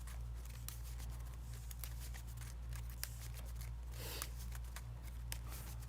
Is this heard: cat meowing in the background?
no